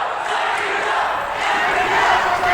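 A wrestling crowd at an independent match roars and chants steadily, a dense sustained wall of voices rallying behind the wrestler Funny Bone as he tries to finish off Hammerstone.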